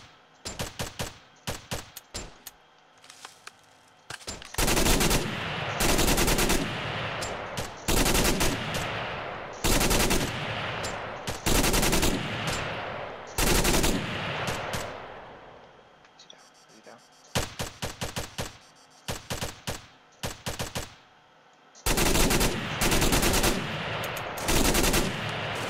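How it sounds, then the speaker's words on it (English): Bursts of automatic gunfire from ARMA 3 soldiers shooting at an APC on Altis, loud and repeated in clustered volleys with brief gaps, some sharp single shots between, and voices talking faintly underneath. "but these guys started shooting at it."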